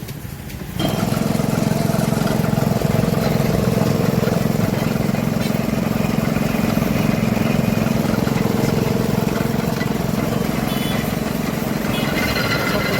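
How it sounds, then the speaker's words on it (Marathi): A steady diesel engine powering a sugarcane juice machine at a weekly market drones continuously at close range, a loud low chugging hum that starts abruptly and keeps running without a break. "डिझेलवरती चालणाऱ्या इंजिनवरती मशीन आहे"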